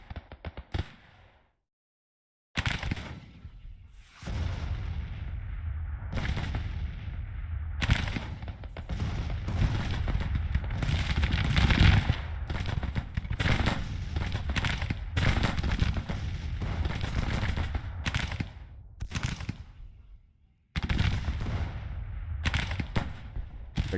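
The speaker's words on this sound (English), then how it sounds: "Go to counter battery fire." Artillery counter-battery fire in the Civil War strategy game Grand Tactician, heard as a dense, sustained barrage of booming cannon shots and crackling volleys that continues for about twenty seconds, broken by brief quiet gaps.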